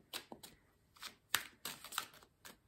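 Tarot cards shuffled by hand, a series of soft, quick riffling and slapping bursts at close range, irregular in rhythm, with no voices.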